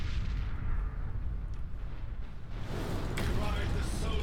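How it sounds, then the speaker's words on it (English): Heavy booming explosions and weapon fire in the Battlefleet Gothic space battle game, a dense continuous low rumble with a sharper burst near the end. "Stupid explosions."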